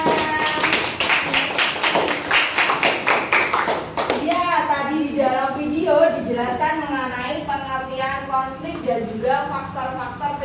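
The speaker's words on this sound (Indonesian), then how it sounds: "Kasih tepuk tangan untuk Hana" A school class claps hands in unison, a quick run of loud, evenly spaced claps at the start, then children's voices chanting and talking over softer scattered taps.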